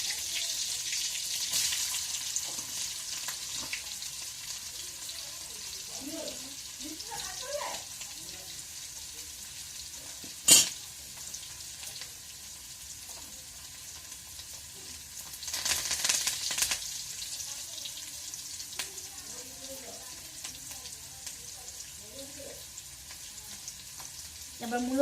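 Carrot and green chili stir-fry in a pan for chowmein, a steady low sizzle running throughout with occasional scraping stirs, one sharp metallic clink and a brief louder hiss burst midway; faint talk now and then.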